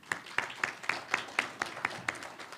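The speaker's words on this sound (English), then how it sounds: "And I'd like to give you all a round of applause." Sparse, evenly spaced claps from a small audience at an awards presentation, about ten distinct hand claps in a loose rhythm, fairly quiet and close.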